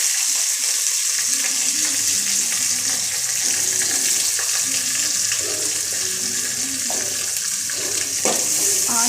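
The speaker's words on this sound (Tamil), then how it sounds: "ஆனியனை போட்டு நல்லா வதக்கும்." Onions sauté in a pan for beans kurma, giving a loud, continuous sizzle and frying hiss close by, with occasional stirring scrapes and no voices over it.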